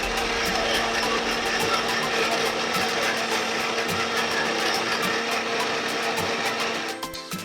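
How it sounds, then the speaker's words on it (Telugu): A kitchen mixer grinder whirs steadily at close range, grinding a banana semolina cake mixture with cardamom powder in its jar, a continuous high-pitched motor drone that winds down at the very end. "మొత్తం వేసేసి ఇది మూత పెట్టుకొని మిక్సీ పట్టుకోండి"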